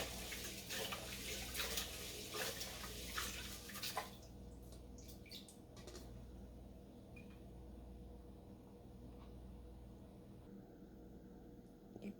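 Rice being washed in water before cooking a traditional Tibetan dish, with steady sloshing and trickling water and brief splashy bursts early on, close and moderately loud, no talking.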